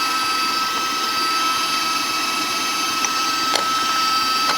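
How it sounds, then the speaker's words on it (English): A stand mixer beating cake batter with eggs for a blueberry buckle, giving a steady, loud whirring drone that holds level throughout with no talk. "I'm going to let it spin for a second until I need to scrape it"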